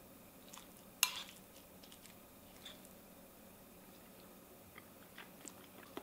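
Someone chews classic beef tartare made with mustard, shallot, capers and parsley, giving quiet, close, moist chewing with one sharp click near the start and soft smacks after it.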